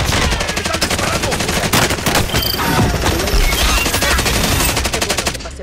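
Rapid automatic gunfire in Warzone, a dense sustained burst of machine-gun shots close and loud, with a few heavier booms mixed in.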